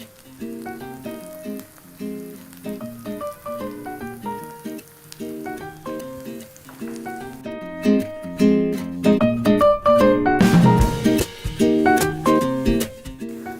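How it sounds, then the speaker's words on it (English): Loud sizzling and spattering of ground spices frying in a pot for a Bengali fish curry, building stronger toward the end while music plays over it. "So I've just added the ground spices. I'm frying it off."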